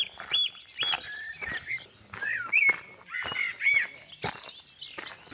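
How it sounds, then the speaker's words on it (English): Dawn birdsong on the Somerset Levels: several birds chirping and whistling in quick, overlapping phrases, moderately near, with no talk over them. "you can probably hear there's birdsong everywhere"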